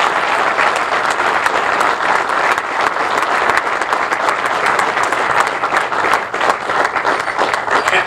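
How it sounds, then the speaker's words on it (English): A crowd claps steadily and loudly throughout, a sustained round of applause with no break, at a groundbreaking ceremony for a golf park in West Palm. "a special round of applause for Seth Wallace."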